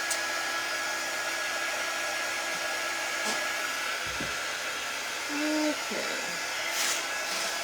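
A hair dryer drying paint on a door tag in a damp basement gives a loud, steady blowing whoosh that runs the whole time, and a voice speaks briefly over it.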